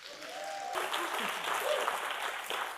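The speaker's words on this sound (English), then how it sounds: "Can we have a round of applause," A conference audience bursts into applause at the close of a leadership event, a dense, steady patter of many hands swelling in after a brief spoken voice and continuing at moderate level.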